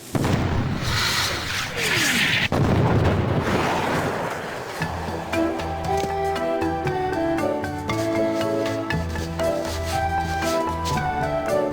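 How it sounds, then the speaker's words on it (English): A few heavy booming cannon blasts rumble up front in the video game Escape from Monkey Island (2000), then give way to steady music with rhythmic notes carrying through to the end. "Now roll out the really big cannon and blow up those terrorists this instant!"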